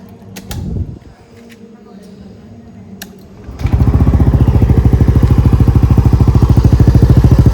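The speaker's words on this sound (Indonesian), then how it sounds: "sekarang mungkin kalian penasaran ya bunyi idle-nya seperti apa" A few clicks and mechanical clatter, then a motorcycle with an aftermarket Villan exhaust starts and settles into a loud, deep, steady idle with rapid, even pulses.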